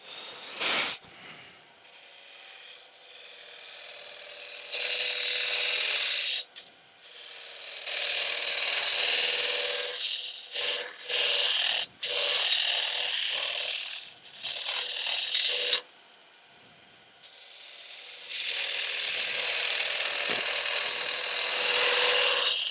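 A small spindle gouge cuts wood on a lathe in bursts of loud, steady scraping and hissing, broken by brief pauses and short interruptions.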